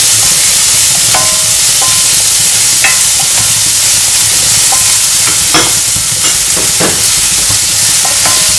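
Chopped onions and garlic roast in a pan for an arbi curry, a loud constant sizzle near the mic with intermittent spoon scrapes and clinks as they are stirred, no speech.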